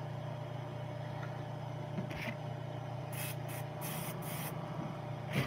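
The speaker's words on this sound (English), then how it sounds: "I'm going to get this to flow through an airbrush" Several short hissing bursts of an airbrush spraying thick paint onto a pumpkinseed sunfish carving, over a steady low compressor hum.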